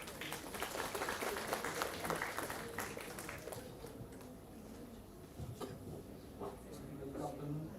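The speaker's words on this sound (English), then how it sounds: "A huge round of applause for sir." An audience at a university student induction programme claps for a few seconds, a faint dense patter that fades as a voice begins speaking over the hall.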